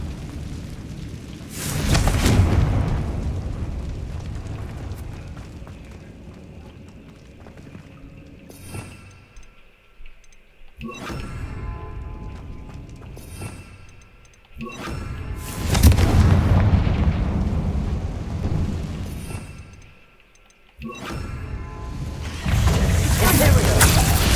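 Confringo blasting spells detonate in Hogwarts Legacy, several heavy booming explosions arriving every few seconds, each with a long rumbling decay between the blasts.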